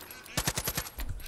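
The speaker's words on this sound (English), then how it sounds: "So I just go back to shooting like I did before." Shotgun fire in the video game Far Cry 5, a rapid burst of several sharp, loud blasts in quick succession with a brief echoing tail, fairly close.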